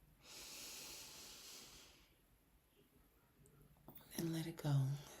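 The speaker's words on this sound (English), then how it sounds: "One more deep breath in all the way up." A long, steady breathy exhale from a person during a guided deep-breathing prayer session, soft and close, followed by a brief burst of other breath and voice noise.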